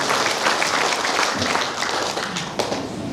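An audience at a hotel gathering marking the third anniversary of the GMPI organisation in Karawang breaks into applause: a brief burst of many hands clapping at close range that fades slightly toward the end.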